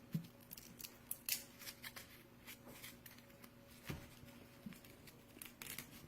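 A papery tomatillo husk is torn and peeled by hand in a home kitchen, giving close, crisp crinkling and rustling in scattered bursts with no talking.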